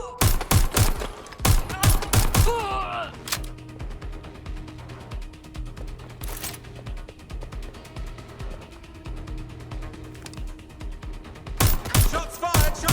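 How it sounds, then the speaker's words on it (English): Gunfire in Watch Dogs Legion: sharp shots and rapid bursts at the start, a single report midway and another volley near the end, separated by quieter game ambience. "Shots fired! Shots fired!"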